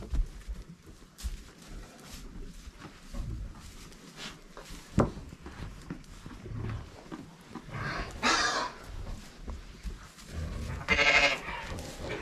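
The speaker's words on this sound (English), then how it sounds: "So our little herd of sheep has grown by one." A small farm herd of sheep bleating, several calls scattered among quiet rustling and shuffling, with the strongest bleats coming late.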